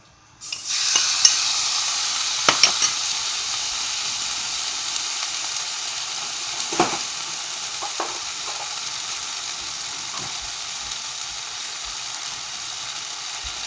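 Shirataki noodles sizzle and fry in a hot pan on high heat, a loud steady hiss with a few sharp clinks and scrapes of stirring, close up and without talk.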